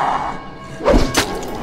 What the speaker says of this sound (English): So when you throw it towards an enemy, it's going to explode when it gets stuck in the zombie.